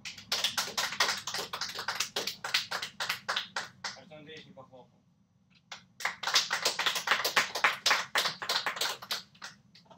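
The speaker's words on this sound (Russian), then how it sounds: "Так, хлоп-хлоп-хлоп." A group of people clapping during a communication training session: rapid, fairly close hand claps in a sustained burst, a brief near-silent pause, then a second burst of applause.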